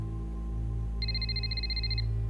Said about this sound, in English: Your phone will start ringing in 3, 2